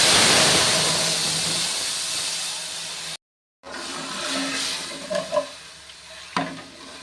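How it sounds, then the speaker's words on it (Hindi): Tamarind pulp hits hot ghee with cumin, bay leaves and red chillies, a loud hissing sizzle that slowly fades, broken by a brief silence, then quieter bubbling and a couple of stirring knocks. "इसमें डालूंगी इमली का पल्प"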